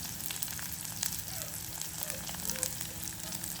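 Onion, curry leaves and dried chillies sizzle in hot oil during tempering, a steady close crackling hiss with small pops throughout, with no voices.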